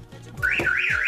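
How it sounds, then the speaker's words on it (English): A short electronic alert from a Jeep Compass two-way car alarm remote, triggered by an opened door: a low blip followed by a warbling, rising-and-falling siren tone, loud and close. "the remote is going off, and you see it's showing a picture of a door."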